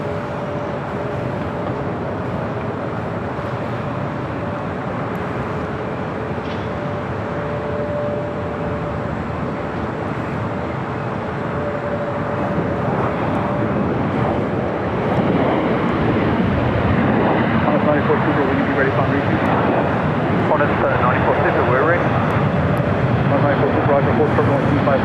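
An Aeromexico Boeing 787 Dreamliner takes off on runway 25 right at LAX, its engine rumble building steadily from a moderate hum to a louder roar over the second half, with radio voices and talk over it.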